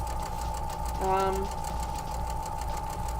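A sewing machine runs steadily with a fine, even mechanical whir and a brief louder burst of stitching in the middle, heard close and at low level.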